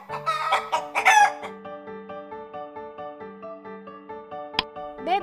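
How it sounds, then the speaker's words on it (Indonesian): Hens cluck in a quick burst at the start, and then a rooster gives a long, loud crow that holds steady tones across several seconds, ending with a short clipped call. "Ayam."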